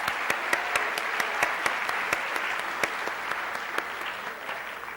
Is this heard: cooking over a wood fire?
no